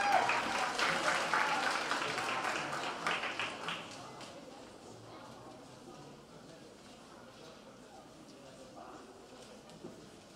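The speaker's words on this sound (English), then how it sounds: "Round of applause." Audience applause at a high school symphony orchestra concert, a dense clatter of clapping that is loud at first and fades away after a few seconds, leaving quiet room noise.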